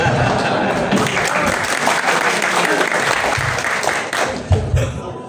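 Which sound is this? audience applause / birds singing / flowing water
audience applause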